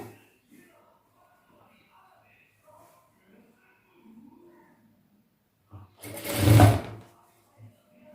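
A sewing machine runs in one loud burst lasting about a second while stitching the curved round neck of a blouse, after a quiet stretch of faint handling sounds.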